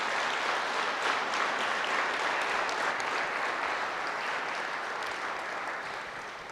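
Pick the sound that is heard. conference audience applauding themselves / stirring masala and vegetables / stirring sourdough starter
conference audience applauding themselves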